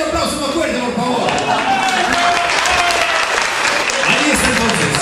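An audience breaks into loud, continuous applause, a dense wash of clapping that holds steady throughout, with voices faintly mixed in beneath it.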